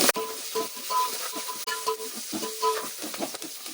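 Tempering spices (cumin seeds, onion, curry leaves) crackle and sizzle in hot oil while a utensil stirs and scrapes the pan, with no voices.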